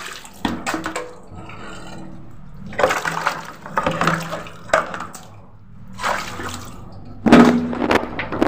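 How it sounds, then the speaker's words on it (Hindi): Water is poured in short, splashing bursts in a doll's daily routine play set in an Indian village, several separate gushes with quiet pauses between them. "अच्छा रुको मैं पानी डाल देती हूँ"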